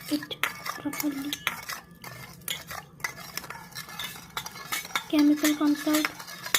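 Spoon clinking and scraping against a bowl while stirring black salt into water, a steady run of close metallic taps and swirls with louder clinks near the end.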